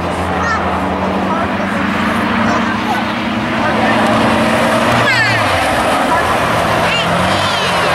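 A pack of V6 race cars roars past at Medicine Hat Speedway with a loud, continuous engine drone that rises and shifts pitch as they pass, under an announcer's talk.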